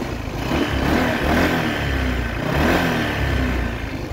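A 2021 Honda PCX 125 scooter engine revs up twice with a rising, throaty roar, swelling and easing back, close by and fairly loud with no talking.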